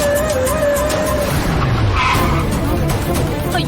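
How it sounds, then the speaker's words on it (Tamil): A car arriving in a Tamil TV serial scene, its tires skidding and squealing as it pulls up, loud and continuous throughout with no talk over it. "கார் சத்தம் கேக்குது."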